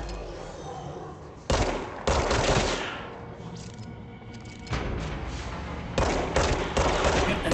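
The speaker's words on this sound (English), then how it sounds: "the director is shooting you in the fucking face" Enemy gunfire in the video game Control, set inside an office building: loud, close bursts of shooting that start and stop in several separate volleys, with short quieter gaps between them.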